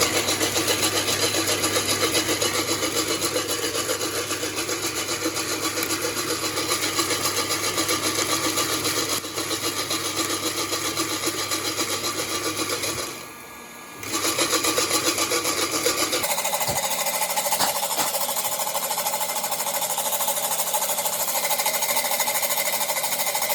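A heat gun roasting coffee beans in a workshop gives a loud, steady blowing roar for most of the clip, briefly dipping near the middle. It then settles into a slightly thinner hiss with faint crackles.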